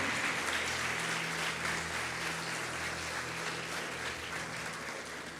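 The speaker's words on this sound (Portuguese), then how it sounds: "Mais um aplauso a Jesus." Sustained applause from a church congregation, a dense steady clatter of clapping filling the space for several seconds without letting up.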